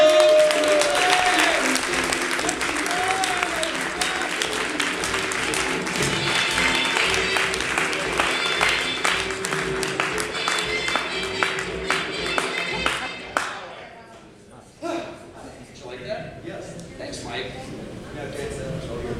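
An audience at an improv comedy class claps and applauds loudly and continuously with voices mixed in. After about thirteen seconds the clapping suddenly falls away, leaving scattered claps and quieter room sounds.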